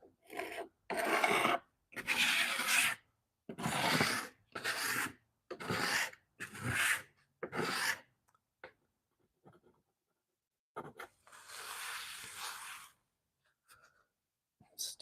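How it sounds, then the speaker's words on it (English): A hard scraper grinds tile adhesive and broken tile bits off a mid-century modern dresser in a rhythm of about eight quick rasping strokes, then a pause, then one longer scrape. The sound is close and moderately loud. "just using the hard scraper right now"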